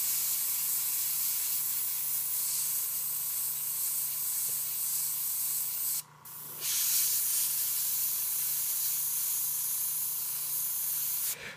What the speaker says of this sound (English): push in, pull all the way back, you get a big blast of paint and can clear the nozzle out too.